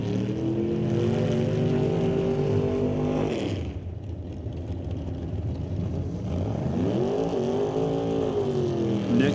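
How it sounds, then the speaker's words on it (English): Doorslammer drag racing cars at a quarter-mile strip during Friday qualifying do burnouts, loud roaring engines revving hard, dropping briefly, then climbing again in a second sustained rising wail, no talk over it. "Got the burnouts done."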